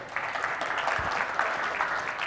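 An audience clapping at the close of a presentation, even, continuous applause from a room of people at moderate loudness, with a faint voice underneath.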